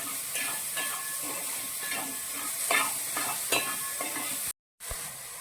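Banana being sautéed with sugar in a pan, giving a close sizzle broken by repeated scraping stirs, with a sudden short silence near the end.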